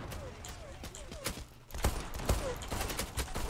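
Desert Eagle pistol shots in the Zula online shooter game, several sharp reports spaced irregularly amid game noise, with someone talking over them.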